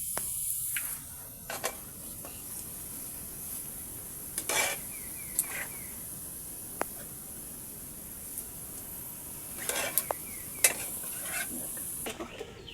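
Onions frying in oil for chicken biryani, a steady soft sizzle throughout with scattered sharp clinks and scrapes of a utensil stirring against the pan, close and moderately quiet.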